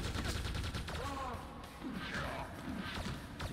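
Gunfire in the video game Quake II, rapid bursts and a continuous rattle of shots at a fairly low level, mixed with game noises and some faint voice sounds.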